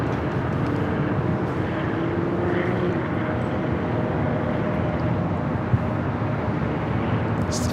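An airplane arriving at LAX from Tucson, Arizona, gives off a continuous broad roar, steady in level throughout, heard from outside with no talk.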